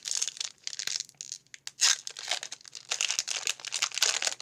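Foil wrapper of a Magic the Gathering Ikoria booster pack torn open up close, a run of sharp crinkling rips and crackles with brief pauses, loud and alone.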